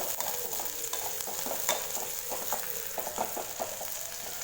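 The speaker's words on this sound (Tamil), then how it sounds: "பச்சை மிளகா வதங்கிடுச்சு." Chopped green chillies sauté with onions in a hot pan for an egg fry, a constant soft sizzle broken by repeated scraping strokes of a stirring spoon, close and alone without talk.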